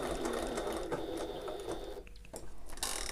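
A sewing machine stitches a tote, humming steadily up close, then slows and stops for a pivot before a short final burst of stitching.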